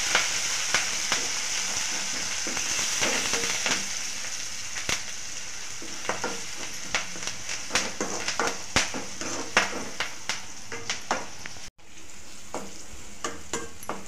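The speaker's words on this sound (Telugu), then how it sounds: "కొద్దిగా కరివేపాకు వేసి కొంచెం ఫ్రై చేయాలి" Tomato and curry leaves fry steadily in hot oil, a continuous crackling sizzle broken by repeated scraping stir strokes throughout, with a brief pause near the end before the sizzle resumes.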